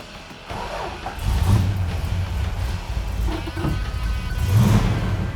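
A 1969 Plymouth Roadrunner V8 engine, stock with manifolds, fires up and settles into a deep, throaty rumble that swells and revs a couple of times, close and steady.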